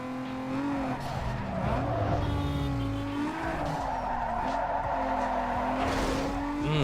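Lexus sliding through a drift event in Need for Speed Underground 2, its engine droning steadily while tires squeal and skid continuously throughout, loud and close with no talking.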